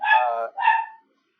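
A dog barks twice, loud and close, in quick succession, each bark about half a second long and followed by silence.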